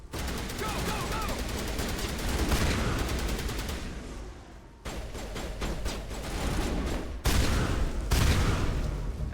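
Sustained game gunfire in a firefight in Mass Effect Legendary Edition, with dense rapid-fire bursts and shots that break off briefly and resume, loud and continuous across the scene.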